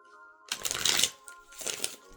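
Tarot cards are shuffled close up in two quick bursts of riffling, papery flutter, separated by a short pause.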